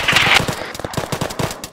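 Automatic gunfire in ARMA 3 comes as quick, evenly spaced rattling bursts, loud and close, following a short hissing rush at the start.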